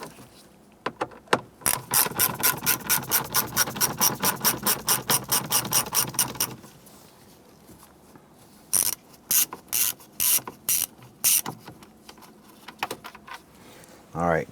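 A ratcheting driver loosens screws on a 1994-2004 Ford Mustang headlight knob panel, first in a fast even run of close clicks, then in shorter bursts of ratcheting after a pause.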